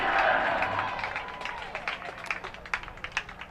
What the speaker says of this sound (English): Small crowd, but very vocal.